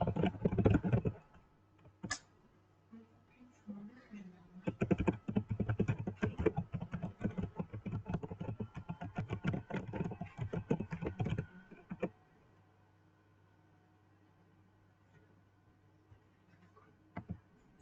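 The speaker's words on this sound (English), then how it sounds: "You're not typing. Type here." Rapid clicking of keys on a computer keyboard, dense bursts of typing over a faint steady hum, pausing briefly and then running for several seconds before stopping.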